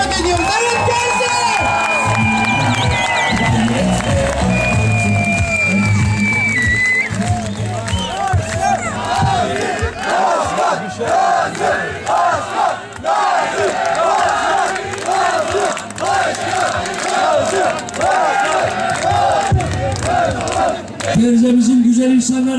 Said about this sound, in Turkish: Sayın Doktor Nazım Maviş Bey'i güçlü bir alkışla kürsüye davet ediyorum.